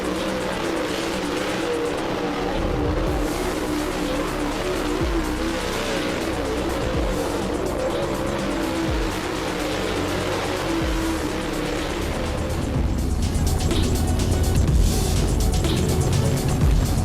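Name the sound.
Super Late Model race car driving on track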